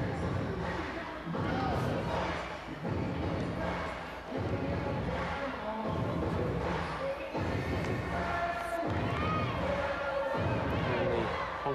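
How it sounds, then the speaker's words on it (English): At a Chinese women's volleyball arena, a raucous crowd roars and chants in rhythmic surges, loud bursts separated by brief lulls, with thuds and shouting mixed in throughout. "Crowd are getting very raucous there"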